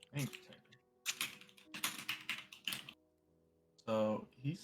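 A computer keyboard is typed on in quick clusters of close, crisp clicks, broken by pauses and followed by a voice.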